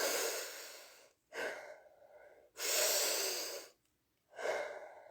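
A person demonstrates slow, calming breathing to ease an anxiety attack: three long, close breaths with quiet pauses between them, each airy exhale drawn out and fairly loud, with no talking.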